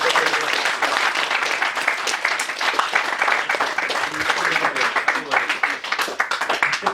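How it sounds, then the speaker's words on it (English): An audience at a hypnotist show breaks into a big round of applause for a volunteer, steady dense clapping that carries on for several seconds at full strength, with some talk mixed in. "Can you all give her a big round of applause?"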